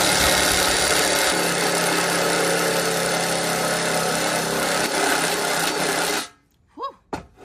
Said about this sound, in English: These are the hardest ones to drill.